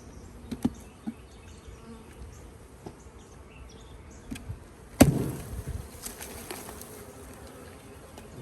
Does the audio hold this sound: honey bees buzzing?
yes